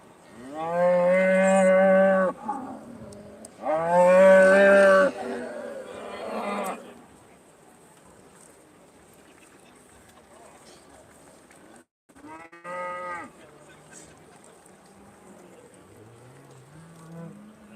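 Aberdeen-Angus heifers at a cattle show low out in two loud, drawn-out moos near the start, then a shorter moo a few seconds later, with quieter show-ring background between them.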